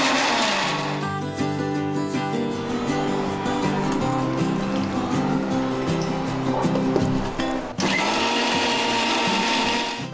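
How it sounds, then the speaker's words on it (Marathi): A kitchen mixer grinder whirs loudly and steadily as it grinds coconut, tomato and onion into a paste, then stops briefly and starts again with no one speaking. "प्रथम असंच 1-2 वेळा मिक्सर फिरून घेणार आहे।"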